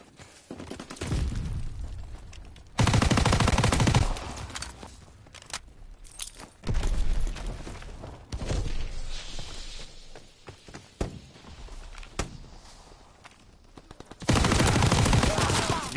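Bursts of gunfire in a WW2 shooter game, including shotgun blasts, come as several loud, dense volleys separated by quieter gaps. Footsteps and clatter fill the gaps, and there is no speech.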